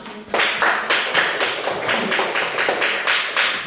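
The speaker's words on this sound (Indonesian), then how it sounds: "Dan kita tepuk tangan untuk kita semua." A classroom of students applauds after presentations, with a steady burst of close, crisp hand claps that pulses in rhythmic waves and continues throughout, with no talking.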